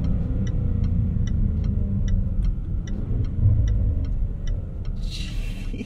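A 2020 Range Rover Velar SV Autobiography engine rumbles deep and steady inside a tunnel, with a turn-signal indicator clicking in an even rhythm over the heavy low drone.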